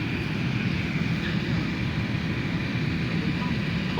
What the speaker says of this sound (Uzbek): Samolyotni to'g'irlab olyapti hozir.